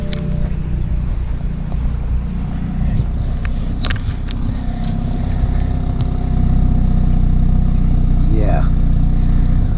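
A 2018 BMW 428i 2.0-litre four-cylinder twin-turbo engine idles steadily with a low rumble, a deeper hum building partway through, while a voice talks over it.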